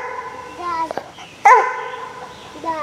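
A hound dog barks outdoors during a summer squirrel hunt, a few sharp barks close by with a bright yelp near the middle, while people talk in the background.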